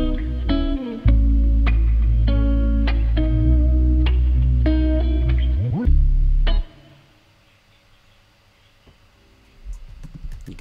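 A Logic Pro X trap beat with guitars and deep 808 bass plays loudly with rhythmic melodic notes, including a rising slide, then cuts out, leaving near-silence and faint clicks.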